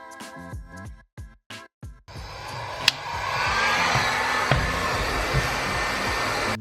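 Heat gun molding car carpet into the floor shape: a few short blasts at the start, then a steady, close blowing hiss that runs continuously, with a sharp click partway through.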